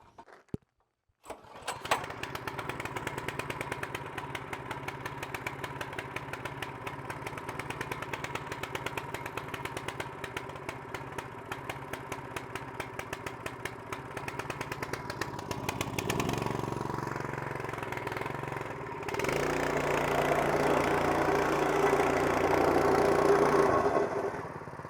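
Small gas engine catching on a single pull and settling into a steady, rapid idle for about twenty seconds, then rising a little, loud and close with no talking.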